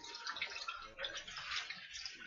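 Water running and bubbling in a steady, faint hiss with soft gurgles, continuing throughout without pause.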